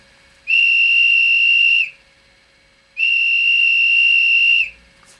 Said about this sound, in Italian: poi l'F15 fischio del capotreno.